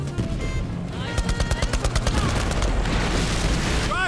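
Rapid gunfire aimed at an enemy tank in the video game Borderlands 3, a fast run of sharp repeated shots with game music and effects, ending in whooshing electronic sweeps.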